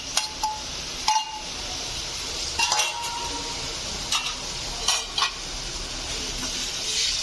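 Finely chopped onions sizzle steadily in a hot pan for Punjabi samosa filling, with a constant broadband frying hiss broken by several scraping stirs and light clinks of a spoon against the metal pan.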